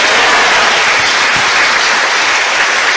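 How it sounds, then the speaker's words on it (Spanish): A congregation at a Catholic church service applauds the Virgin Mary with dense, steady clapping that fills the whole stretch at full loudness, with no voices standing out. "Un fuerte aplauso para nuestra Virgen María."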